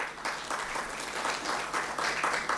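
An audience at the Africa Now high-level dialogue claps steadily and evenly throughout, a moderately loud, continuous patter of many hands with no voices over it.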